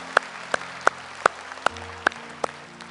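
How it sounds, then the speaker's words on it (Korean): Slow, sparse claps ring out in a church during a Friday night worship service, about eight distinct hand claps spaced evenly over a low hum of background organ or music. "우리를 먼저 사랑하신 하나님께 감사의 박수 올려드립니다"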